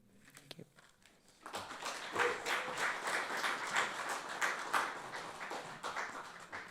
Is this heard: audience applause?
yes